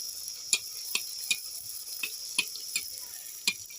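Semolina masala puris deep-fry in hot oil, a steady hiss broken by regular sharp ticks of spattering oil or ladle taps about every half second, close and without speech.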